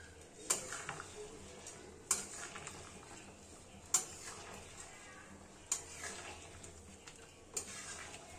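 Chicken stew for Jamaican brown stew chicken is stirred in a pan. Five sharp spoon knocks against the metal land at roughly even intervals over a soft background simmer, fairly quiet and with no talking.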